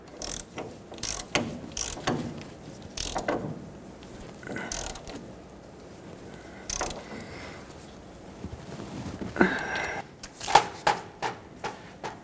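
Socket ratchet clicking in short bursts while tightening the pitman arm nut on a 2011-2016 Ford F-350 steering box, close and fairly quiet with pauses between strokes.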